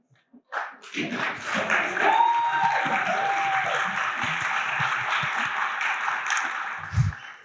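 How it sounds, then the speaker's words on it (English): A graduation audience breaks into applause after a short pause, the dense clapping swelling quickly and holding steady for several seconds before tapering near the end. "please rise so we can give you a round of applause"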